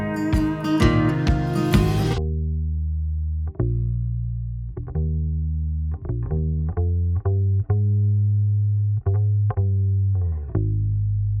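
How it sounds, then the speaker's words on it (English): A bass guitar plays a short run of low notes, then a series of separate plucked notes ring out and sustain, each swelling and fading in level. "Bass guitar is pretty simple, just one take, one track, and then I did some volume automation."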